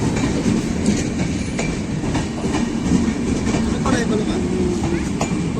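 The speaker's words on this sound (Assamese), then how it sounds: "জাষ্ট গৈছে ট্ৰেইন" A train rumbles past nearby with a steady low roar and faint rhythmic clatter, continuous throughout with no breaks.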